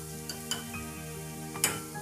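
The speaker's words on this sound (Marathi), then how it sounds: "कांदा आपल्याला थोडा मऊ होईपर्यंतच परतायचा आहे." Onion sautéing in a wide, shallow pan for a surmai fish curry: a soft, steady sizzle with a few light clicks and one sharper scrape near the end, no talking.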